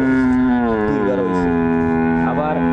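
A cow on a cattle farm gives one long, loud, sustained moo close by, its low droning call filling the whole moment with a slight rise and fall in pitch.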